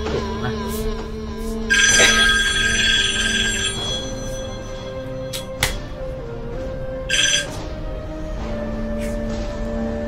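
A telephone rings during a crime drama scene, with two bursts of bright electronic ringing, a longer one early and a shorter one later, over a low background hum and scattered clicks.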